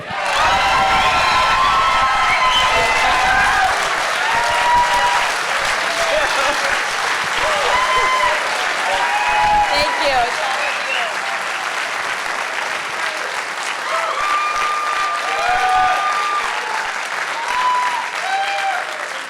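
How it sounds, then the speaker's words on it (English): A crowd at a political rally welcomes Senate candidate Tiffany Smiley to the stage with loud, sustained applause, mixed with cheers, whoops and scattered shouts over the steady clapping. "That applause is for all of you."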